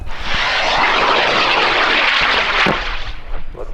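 A high power rocket motor ignites and roars at a launch event in Argonia, Kansas, giving a loud, close, continuous rushing blast that holds steady for several seconds before starting to thin out.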